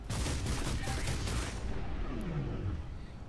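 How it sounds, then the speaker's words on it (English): Rapid gunfire from a mech in the video game Hawken, a dense continuous burst of shots for about a second and a half before it stops and a low mechanical hum remains. "so I'm shooting at a ghost"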